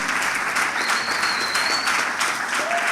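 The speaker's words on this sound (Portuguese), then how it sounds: "Pode aplaudir, porque é para Jesus" A church congregation applauds in a steady, dense wash of clapping that holds throughout with no pauses, with a faint whistle rising briefly above it.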